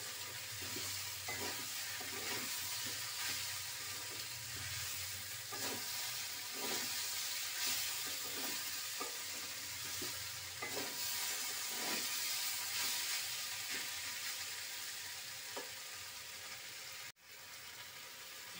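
Mixed vegetables for a Bengali five-vegetable dish sauté in a pan, a steady loud sizzle with repeated soft stirring scrapes throughout, no voices.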